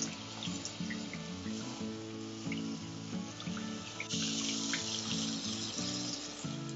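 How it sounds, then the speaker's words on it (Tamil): Tamarind water pours and trickles steadily into a pan for several seconds, with a brighter splashing stretch toward the end, close by and fairly quiet. "அதுல வந்து புளி கரைச்ச தண்ணிய அதுல ஊத்தணும்."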